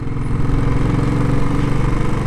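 A motorcycle engine running steadily on a rough village road, a loud, close, continuous mid-pitched drone with a slight pulsing throb and no voices.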